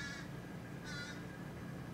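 A pair of crows caw twice, about a second apart, harsh and fairly near, over a low steady background hum with no one speaking.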